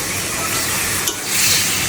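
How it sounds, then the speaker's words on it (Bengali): Food being stirred in a hot kadai, a continuous frying sizzle with scraping stir strokes, one sharp scrape just past the middle, close and steady throughout. "হালকা নাড়াচাড়া করে দেবো"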